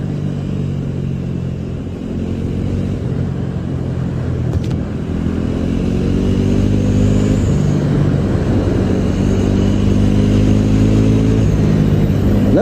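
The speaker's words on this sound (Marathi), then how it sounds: "लय भारी आवाज होतो भाई गाडीचा." Engine of a Honda Activa scooter hums loudly at close range, a continuous rumbling drone that rises gradually in pitch and strength as it revs, with no talking.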